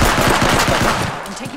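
Rapid automatic gunfire in a video game rattles loudly and close, a quick string of shots over about a second that then tapers off.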